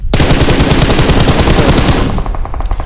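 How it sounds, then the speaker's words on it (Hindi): Rapid machine gun fire in an online shooter game, a dense continuous burst of shots that stays loud and close for most of the moment, then tapers into a few separate, sharper cracks near the end. "भाई मशीन गन।"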